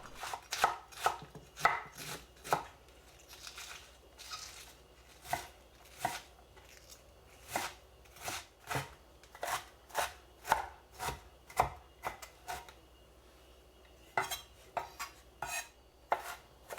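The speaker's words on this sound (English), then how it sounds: "Chop 150 grams of cabbage." A knife chops cabbage on a cutting board in a series of sharp, close strokes, some quick runs and some spaced beats, with short pauses between.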